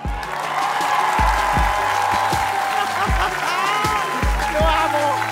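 An audience at a televised talent show audition delivers a loud, sustained ovation of clapping and cheering, with voices shouting over the applause.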